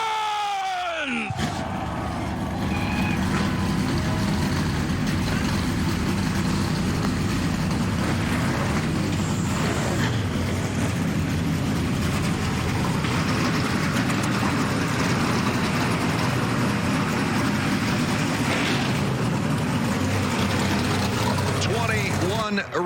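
Race car engines at the Lucas Oil 150 championship race fire up together and settle into a loud, sustained, rumbling drone that fills the whole stretch, with a brief voice at the very start.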